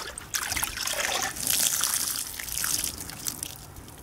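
Water poured from a small bucket onto potato plants trickles and splashes in uneven surges, close and moderately loud, with no speech.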